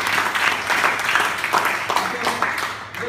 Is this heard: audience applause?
yes